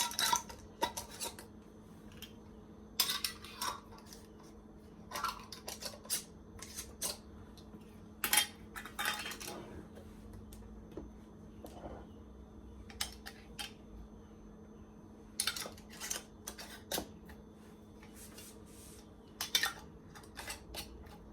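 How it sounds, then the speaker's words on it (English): Metal lids clink and scrape in short, irregular bursts as they are screwed onto glass canning jars of carrot wedges, close by, against a low steady hum, with no talking. "So now we can screw the lids."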